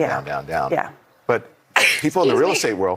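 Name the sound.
sneeze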